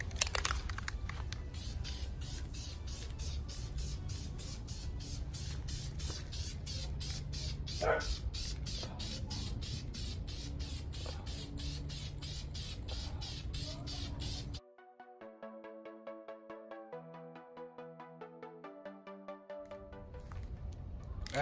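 Spray paint hisses steadily for about fifteen seconds as the first coat goes onto a Toyota Supra MKIV transmission, nearby but fairly quiet. Music with a plucked melody follows.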